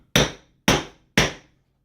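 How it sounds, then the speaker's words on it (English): A hammer strikes a Coco Jack opening tool into the top of a young Thai coconut three times in an even, steady rhythm: sharp, loud, close knocks, each fading quickly, with no other sound between them. "you take the hammer and you just tap around it, or a couple good whacks"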